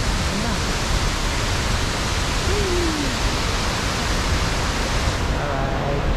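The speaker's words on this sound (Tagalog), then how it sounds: "Tumutunog pa ang falls." Lake Sebu Falls number 2 rushing loudly and continuously, a dense, steady roar of falling water close by with no break.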